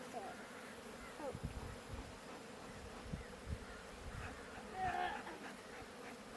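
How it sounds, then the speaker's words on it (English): Honeybees from a Layens hive buzz steadily close by outdoors around a smoking bucket during winterizing, a continuous faint drone with occasional louder passes. "The bees are getting to the flames in the bucket."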